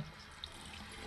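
Water runs from a tap while someone washes their hands, a steady faint gush with no talk over this short stretch.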